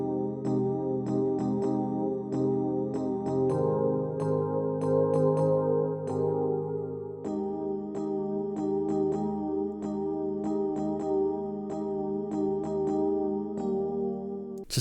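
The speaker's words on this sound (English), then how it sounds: "I've added these really funky keys, and they sound like this." Funky electric keys play a chord progression for the break and drop of an electronic dance track, in crisp, punchy rhythmic stabs over sustained chords, loud and close with no voices.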